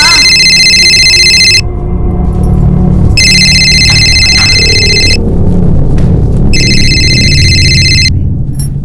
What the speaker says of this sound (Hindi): सोनाक्षी, तुम्हारा फोन बज रहा है।